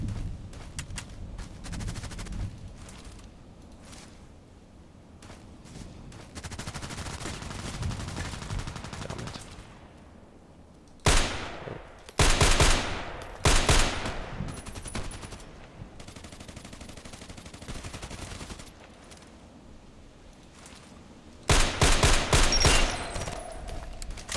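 Video game gunfire in a sniper match: bursts of rapid automatic shots in clusters, loud and close, separated by quieter stretches of distant rumble and ambience.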